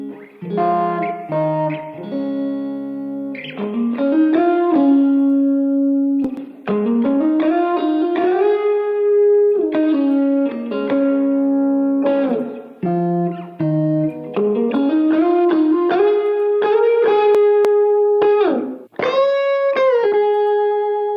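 An electric guitar in a singer-songwriter mix, heavily compressed with a Distressor plugin and washed in plate reverb, plays sustained melodic phrases with sliding notes for about twenty seconds, steady and prominent, with no voices.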